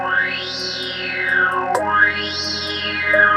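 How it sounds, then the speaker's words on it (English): A programmed trap snare run through heavy distortion plays in a looping pattern, with warbling effect sweeps rising and falling around a sharp crack at the midpoint. "Now I'll program my snare. I'm going to turn my snare right up."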